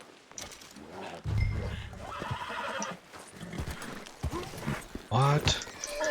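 A horse in Red Dead Redemption 2 whinnies and snorts amid game sounds and hoofbeats, mixed with someone talking over most of the clip.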